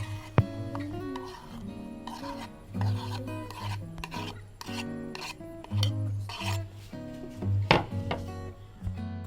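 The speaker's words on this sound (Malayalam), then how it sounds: "നമ്മൾ എടുത്തിരിക്കുന്നത് പച്ചമുളകാണ്. ഇതേപോലെ ചെറുതാക്കി കട്ട് ചെയ്യണം." A knife cuts green chilies into small pieces on a board while preparing chicken samosa filling, making repeated close, rasping chops in uneven bursts.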